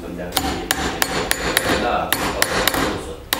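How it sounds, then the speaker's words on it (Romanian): A hammer taps the metal clips on the heater radiator of a Dacia Logan, striking about ten sharp, evenly spaced blows close by, with no talking. "Știi că trebuie clipsat folosind ciocanul."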